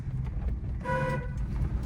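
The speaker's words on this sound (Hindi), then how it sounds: "लॉन्ग हॉर्न प्रेस करिए।" A car horn sounds a steady honk of about half a second over the low rumble of a running engine and road noise.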